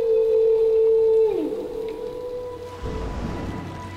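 Hunting whales call to one another underwater, a loud sustained tonal moan that bends downward and fades, followed by lower rumbling water noise, with no voices.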